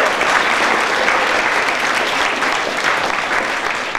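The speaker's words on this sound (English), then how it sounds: "Could we have a round of applause for the vote in California?" Loud, dense applause from a lecture audience fills the room steadily and evenly throughout, a continuous wash of many hands clapping close by with no voices rising above it.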